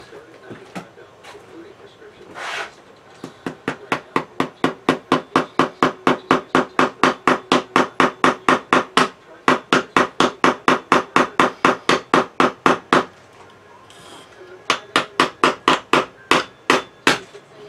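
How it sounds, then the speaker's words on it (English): A small leather tack hammer strikes a part laid on a wooden block during drive-shaft work, delivering a long run of rapid, even, sharp metallic taps up close, pausing briefly before resuming, with a voice briefly audible. "Let me get my little leather tack hammer."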